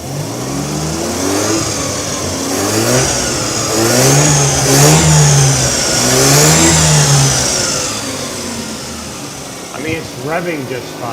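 A Mazda RX-7 engine running a standalone setup revs up and down in several rising and falling sweeps, loud and close, then settles toward a steadier hum.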